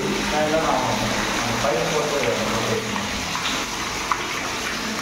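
Water gushes steadily into a storage tank beside a float-type level sensor, part of an automatic water level controller setup; a continuous broadband rush fills the clip with voices faintly underneath.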